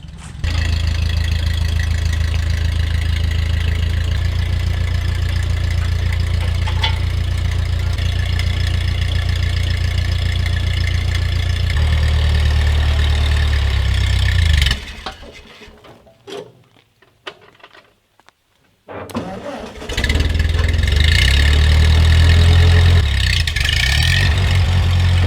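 Tractor engine idling loud and steady with a low knocking thrum, then cutting out into near silence before restarting and running again close by.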